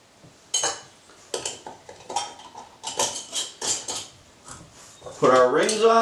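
Metal lids and screw rings fitted onto glass jars for homemade liquid candles, a close series of small clinks, scrapes and metallic clatters, with a brief voice joining near the end.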